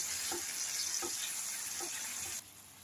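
Chilli paneer with poured-in sauces and a little water is stirred in a hot pan. A steady close sizzle carries four evenly spaced spatula scrapes, and the sizzle drops in level near the end.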